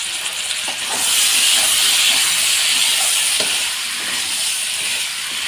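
Water poured into a hot pan of Bengali fish curry with vegetables sets off a loud, steady hiss and sizzle that holds for several seconds, close and alone.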